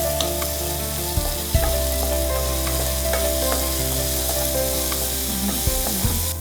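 Chana dal and urad dal fry in hot oil in a pan with a steady, close sizzle, broken by a few sharp clinks and scrapes of a spoon stirring; a low hum runs underneath and no one speaks.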